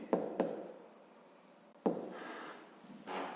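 Pen writing on paper during a fifth-grade maths exercise, a few scratchy strokes with sharp taps at the start of each line, close and quiet, no talking.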